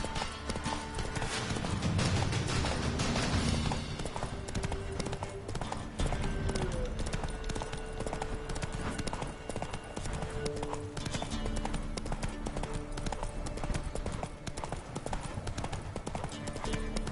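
Horse hooves trot in The Witcher 3 video game, a steady, close clip-clop rhythm that keeps on without break beneath a low game soundscape.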